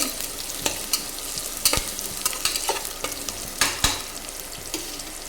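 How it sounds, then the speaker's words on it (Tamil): Onions sauté in a pan for tomato rice, giving a quiet, continuous sizzle broken by irregular clicks and scrapes from a spoon stirring. The sound is close and moderately faint, with no voices. "வெங்காயம் வந்து நம்மளுக்கு நல்லா வதங்கிட்டு இருக்கு"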